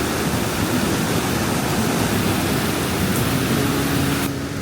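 A waterfall in Quebec makes a loud, steady roar of rushing water that holds constant throughout and fades slightly at the very end.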